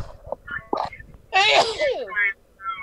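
A single loud sneeze bursts out amid background chatter, with voices talking before and after it.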